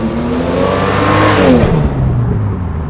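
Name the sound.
car accelerating with wheels spinning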